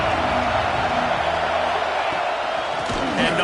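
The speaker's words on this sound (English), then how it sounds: "This crowd ready to make its presence known." A stadium crowd roars in a steady, dense wash in an NCAA 26 college football video game.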